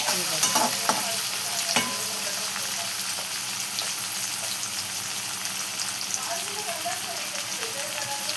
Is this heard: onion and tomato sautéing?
yes